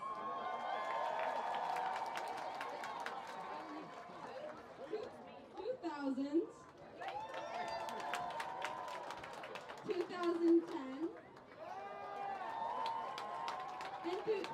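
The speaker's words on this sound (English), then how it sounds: "Can you please get one more round of applause for all of our alumni who came out today?" Crowd applause and cheering rise in the stands for returning alumni at a high school homecoming football game, Trojans versus Giants, with an announcer's voice over a public address system cutting through the clapping.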